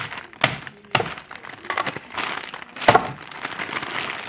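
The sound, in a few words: bag of frozen carrot slices being handled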